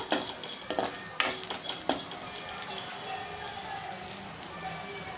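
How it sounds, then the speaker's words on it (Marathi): Whole spices sauté in a pan for Malvani-style rajma, with sharp metal scrapes and clinks of a spoon over a soft sizzle, fading to a quieter fry. "आपण त्यामध्ये खडा मसाला जो घेतलाय तो टाकूया आणि 1 मिनिटभर परतवून घेऊया"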